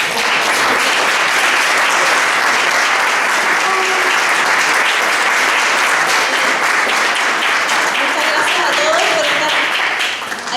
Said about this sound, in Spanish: un aplauso para nuestra expositora.